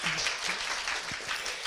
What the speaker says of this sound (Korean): 케어누리의 민동세 대표님 큰 박수 부탁드리겠습니다.